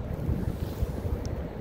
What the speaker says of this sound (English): we're already getting that south wind a little bit